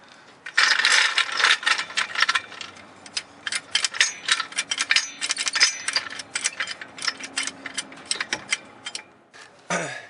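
Mechanical ratcheting and rattling of a trailer jack being set up under a trailer axle during a tire change, a dense run of close clicks and metallic scrapes that continues through the clip.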